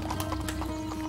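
Horse hooves clip-clopping in quick, steady rhythm, close and continuous over a low background hum.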